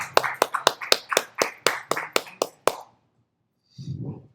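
Clapping from a comedy open-mic audience at a lounge: about a dozen sharp, evenly spaced claps close by, then a pause and a brief muffled sound at the end.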